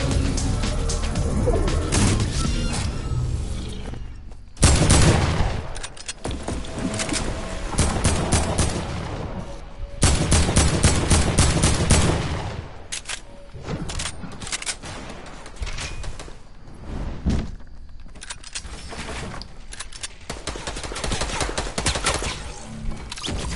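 Dense, sustained gunfire in Fortnite, with rapid bursts and repeated shots layered into a continuous, loud barrage that keeps going throughout.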